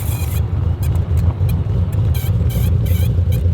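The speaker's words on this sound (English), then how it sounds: "It sounded like metal grinding on metal." A Shelby GT500 Super Snake fitted with Wilwood brakes rumbles loudly while driving, with a rhythmic metallic grinding pulsing over the steady engine and road noise.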